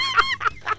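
A live chicken gives three short, loud, nasal squawks in quick succession, close by and with nothing else heard.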